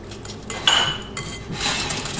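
A utensil clinks and scrapes against a mixing bowl as eggs are beaten into banana bread batter, a few close, light knocks and scraping swishes with no talking.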